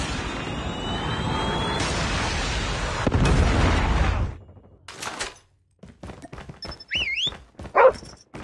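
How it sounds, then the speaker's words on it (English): A Predator missile strike in Call of Duty Mobile lands as a loud sustained blast and roar that cuts off abruptly, followed by scattered game effects and announcer voices. "Predator missile inbound."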